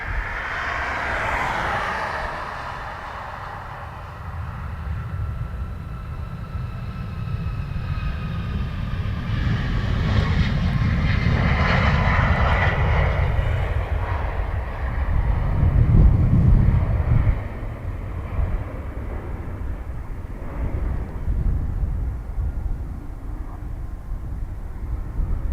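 A Gulfstream business jet takes off at Dublin Airport, its engine roar swelling and fading with a low rumble, heard from a distance amid wind buffeting the microphone.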